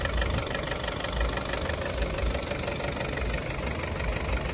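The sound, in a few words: car engine idling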